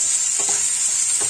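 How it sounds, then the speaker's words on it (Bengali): Vegetables sizzle loudly in a pan while a spoon stirs them, giving a bright steady frying hiss with a couple of soft scraping strokes, close and without speech. "সব সবজিগুলোকে এবার আমি একটু নেড়ে নিচ্ছি"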